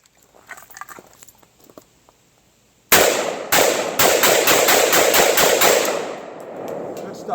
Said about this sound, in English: Let me fire a couple rounds.